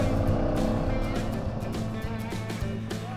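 Husqvarna 701, a second-hand 2021 model, ridden off-road over rocks and sand, its engine a steady, loud, continuous drone with a broad rumbling low end that holds throughout, close to the microphone.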